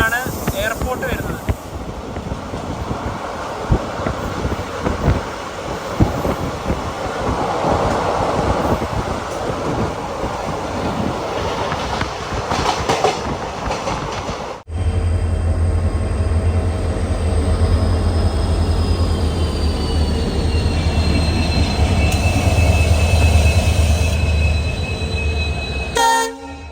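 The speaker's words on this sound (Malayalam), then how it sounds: "ട്രെയിൻ ഇതാ വാസ്കോ ഡ ഗാമ റെയിൽവേ സ്റ്റേഷനിലേക്ക് എത്തിയിരിക്കുകയാണ്" Train running 28 km from Madgaon into Vasco da Gama railway station in Goa, a loud rattling rumble with wind buffeting the microphone, then a deeper steady roll with a long, drawn-out horn-like tone over the second half.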